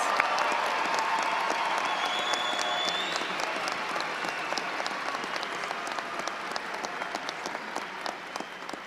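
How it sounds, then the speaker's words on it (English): Sustained applause fills a high school graduation ceremony for the class of 2025 scholarship winners, a broad wash of clapping from a large crowd with a few faint cheers, gradually tapering toward the end. "Please give a round of applause to the class of 2025 scholarship winners"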